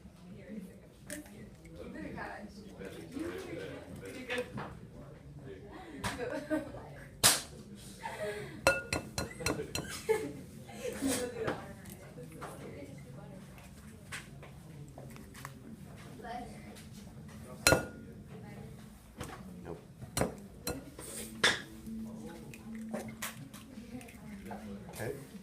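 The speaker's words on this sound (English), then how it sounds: "we're going to crack the 3 eggs into the bowl" Three eggs cracked one after another into a bowl for an omelet, giving sharp shell clinks and taps against the rim with soft wet plops, close up, spread across the clip between stretches of talk.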